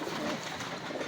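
Pigeons in a loft, just after being given water, with soft cooing and rustling going on throughout at a steady, fairly quiet level and no talk.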